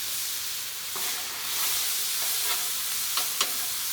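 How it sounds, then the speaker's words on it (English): Pineapple fried rice with teriyaki sauce sizzles steadily on a Blackstone griddle, with a few faint scrapes of a spatula stirring, no voices. "I'm just going to stir that up"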